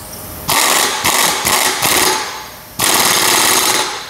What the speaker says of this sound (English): we'll tighten our piston nut back down